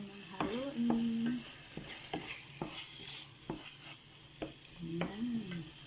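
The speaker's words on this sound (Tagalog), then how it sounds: "Yung kamatis na na-blend. Ayan siya. Haluin natin ng haluin." Blended tomatoes being stirred in a frying pan, with soft sizzling and repeated scraping strokes of a utensil against the pan, close and steady.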